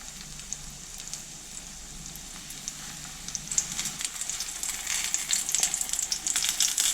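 Steady oil sizzle from flourless cheese pancakes (syrnyky) frying in a hot pan, crackling and spitting, growing louder and busier about halfway through.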